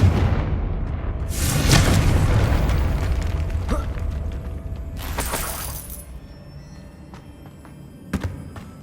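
A Confringo fire spell explodes in Hogwarts Legacy, a heavy booming blast with crackling burst that rumbles and decays, followed by a second sharp burst and a smaller pop later, loud and close with no talk.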